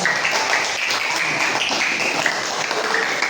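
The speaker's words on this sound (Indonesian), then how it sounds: "tepuk tangan dulu untuk semuanya." Applause from a school class after finishing quizzes, a loud, close, continuous patter of many hands clapping together in a classroom.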